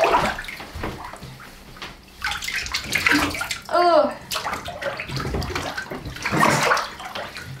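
A child climbs into a bathtub filled with warm slime, producing thick sloshing and splashing bursts with a gurgling squelch in the middle, while a child and an adult talk over it.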